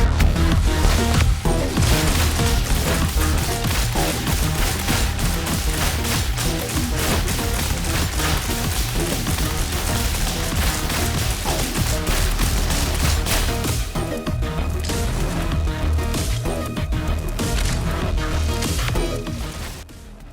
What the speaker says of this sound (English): not this arc rifle, though on the surface it does seem very weak, but this arc rifle. One that can kill bosses, armored enemies, and trash mobs really, really fast.